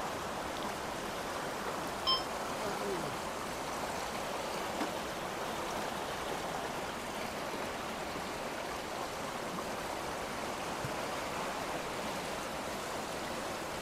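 A river flows in a steady, even wash of rushing water near a former suspension bridge site at dusk, constant and moderately loud throughout with no voices.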